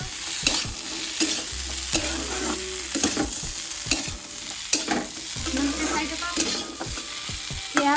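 Ingredients for ghugni fry in a pan at close range with a continuous sizzle, punctuated by repeated stirring knocks and scrapes against the vessel. No voices.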